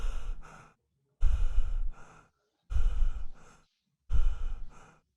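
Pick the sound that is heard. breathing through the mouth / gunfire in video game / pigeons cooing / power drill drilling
breathing through the mouth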